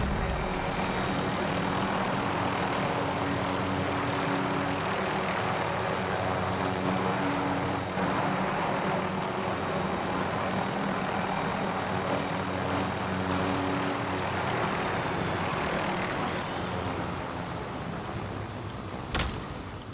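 Helicopter flying in Call of Duty Warzone: a steady, droning engine-and-rotor hum holds loud and even for about twenty seconds with no talk, ending in a short sharp click.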